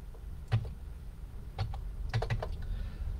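Light typing on a computer keyboard, with small bursts of keystrokes in a quiet room and no voices.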